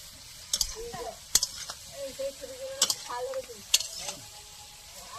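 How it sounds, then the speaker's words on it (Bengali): Prawns cooking with cumin over a wood-fired clay stove, with a soft sizzle broken by sharp spoon scrapes and clicks against the pot, while a voice talks quietly underneath. "এদিকে জিরা মেশে মাছ রান্না করছি উনুনে, কাঠের উনুনে চিংড়ি মাছের রান্না করছি।"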